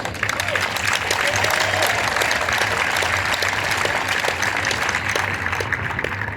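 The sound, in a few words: audience applause at a 5K run and walk event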